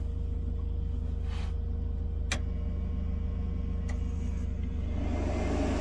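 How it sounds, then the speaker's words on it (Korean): A steady low hum from a running microwave oven powered from a battery setup drawing up to about 80 amps, constant and close, with a couple of faint clicks and ticks over it. "전자레인지 가동을 했고요."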